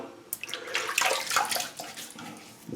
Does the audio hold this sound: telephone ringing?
no